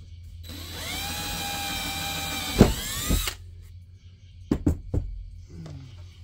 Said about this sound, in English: Drilled the hole in the wrong spot.